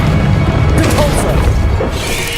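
Repulsor spell cast in Hogwarts Legacy, a loud forceful smash-and-thud burst of magic over dense low rumbling combat noise, with a brief voice-like sound mixed in, lasting a couple of seconds.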